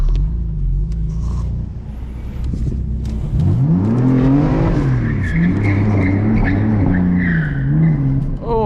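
A 500 HP BMW M4 on an empty road at night, its engine revving hard as the tires lose grip and squeal in rising and falling skids, loud and close, with the engine rumbling underneath throughout.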